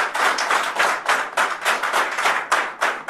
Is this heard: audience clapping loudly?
yes